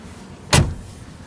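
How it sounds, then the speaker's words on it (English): A single solid door slam on a 2019 Mercedes G500, one sharp heavy thud heard close up inside a quiet cabin, no voices. "And you need to slam the doors,"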